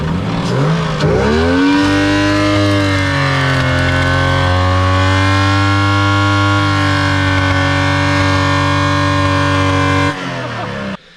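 A car with a Barra engine revs hard and holds a loud, steady high-rpm drone for about ten seconds, the pitch climbing early and then sustained before cutting off abruptly near the end.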